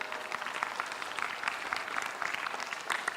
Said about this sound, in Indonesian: Boleh minta tepuk tangannya Bapak Ibu sekalian.